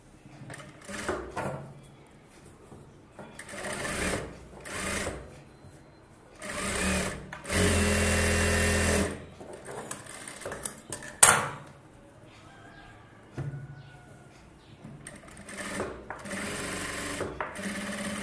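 A sewing machine stitches a bridal Aari blouse for a wedding sari, running in repeated bursts of steady whirring, the longest a few seconds, with clicks, handling knocks and pauses between runs.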